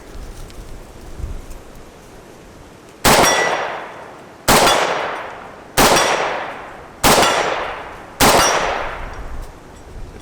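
An AK-74 rifle fires 5.45 hollow points at a steel target: five loud, sharp shots spaced about a second apart, each with a ringing decay, after a quiet outdoor stretch.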